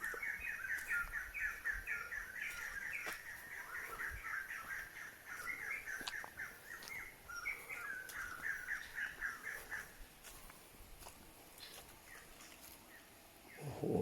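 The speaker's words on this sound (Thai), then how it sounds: "คุณผู้ชมเสียงนก" Birds chirp and call repeatedly in quick bursts at a moderate distance in forest along the Huai Sawai waterfall nature trail in Thailand, over a quiet outdoor background, fading out toward the end.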